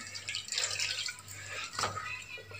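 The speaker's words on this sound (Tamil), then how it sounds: "அதில் அந்த ரவை மூழ்கிற அளவுக்கு தண்ணி ஊற்றி ஊற வச்சிடலாங்க." Water poured into a bowl of semolina set to soak for dosa batter, quiet splashing and trickling in short bursts, faint and close, with no talking.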